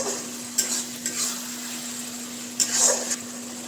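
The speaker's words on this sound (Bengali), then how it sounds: "একটু নেড়ে দিই ভালো করে একটু জল দিয়ে দিয়ে নাড়বেন" Spice paste frying in a pan with a little water added, spoon scrapes and stirring sounds over a moderate sizzle, a few louder bursts of hiss, and no speech.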